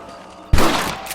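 A single loud, close rifle shot fired at rabbits in the video game Red Dead Redemption, a sharp blast with a brief ringing tail after a quiet moment.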